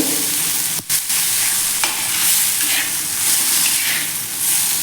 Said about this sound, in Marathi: एखाद मिनिटभर किंवा अर्धा मिनिटभर असं फ्राय करून घेऊया